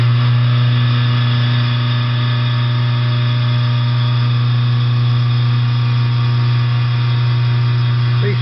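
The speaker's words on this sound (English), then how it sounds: "Now doing a tool change, and it's going to rough the inside of the inlet valve cage" A machine tool roughs out the inlet valve cage aperture inside a cylinder head, giving a loud, steady drone with a constant hum that holds unbroken throughout.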